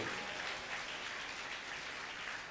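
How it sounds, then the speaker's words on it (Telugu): Audience clapping fills a brief stretch at a Telugu sermon, a dense, even patter of many hands heard from a distance and slightly muffled. "అందరూ గట్టిగా చప్పట్లు కొట్టండి"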